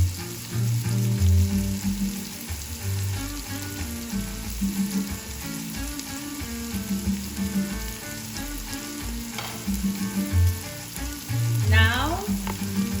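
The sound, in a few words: vegetables sautéing and sizzling in a pot for Haitian legume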